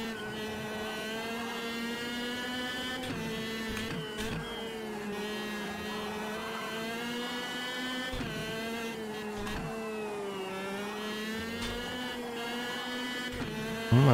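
A 125cc shifter kart engine in the racing game Automobilista 2 at Ortona, a steady, high-pitched buzzing drone that rises and falls with revs and gear changes, continuous and fairly quiet, without speech.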